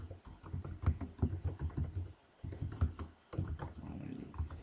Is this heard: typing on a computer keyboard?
yes